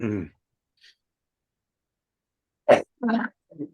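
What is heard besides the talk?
sneeze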